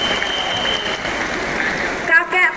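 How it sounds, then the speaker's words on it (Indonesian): Audience applause at a national address by Anies Baswedan, a steady wash of clapping from a crowd for about two seconds, then cutting out abruptly as a brief bit of sound follows. "Tepuk tangan untuk beliau."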